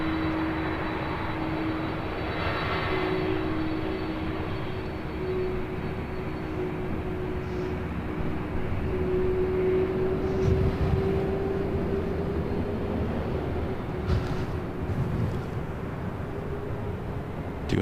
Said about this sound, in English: See with that Delta 767 heading to Honolulu, now rolling down.